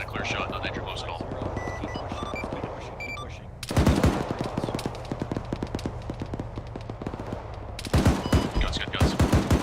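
Sustained machine gun and rifle fire in an Arma 3 military realism firefight, rapid rhythmic bursts of shots with heavier nearby volleys in the middle and at the end, quiet voices murmuring underneath.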